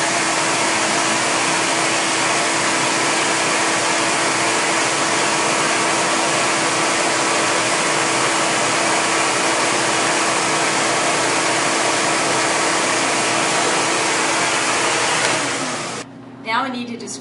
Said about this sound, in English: Here I have an air supply that blows air out, and when I turn it on, I'll have it levitate a ball in the airflow